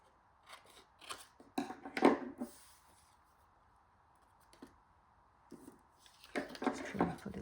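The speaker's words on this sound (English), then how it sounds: "Just trim off a little bit." Scissors snip through single-sided 12x12 scrapbook paper while trimming pieces for a folio folder, with several short cutting bursts in two clusters separated by a quiet stretch, close and moderately loud.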